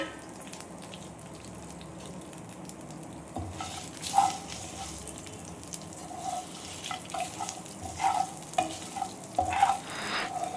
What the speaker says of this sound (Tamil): மணம் வர வரைக்கும் நல்லா வறுத்துக்கலாம்.